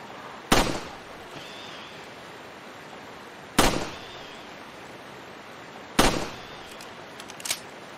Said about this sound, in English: Try to pay attention to the sound of the water flowing in the background and the sound effects for gunshots,